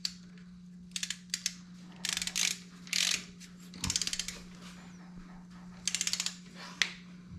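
Torque wrench clicking and ratcheting while tightening the drain plug on a Harley-Davidson Sportster during a transmission oil change, set to 25 foot-pounds; bursts of rapid ratchet clicks repeat in short runs, close and clear, with a steady hum beneath.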